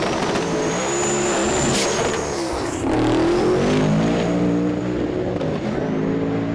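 A 1956 Chevy shoebox drag car roars down the strip at drag week, its engine a loud, continuous, close howl that builds steadily, with no voices over it.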